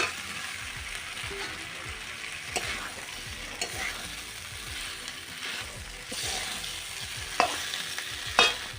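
Potatoes and fried cauliflower sauté in a pan, a soft steady sizzle broken by repeated scraping strokes of a spoon stirring the vegetables, close and alone without speech.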